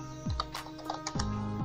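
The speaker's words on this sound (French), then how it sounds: "Maintenant, nous allons taper la commande" Keys clatter in quick irregular clicks as a command is typed on a computer keyboard, close and clear with no voices.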